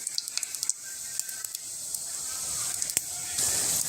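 Vegetables hitting hot oil for a restaurant-style veg biryani, giving a steady, moderately quiet sizzle with crackling pops that swells toward the end.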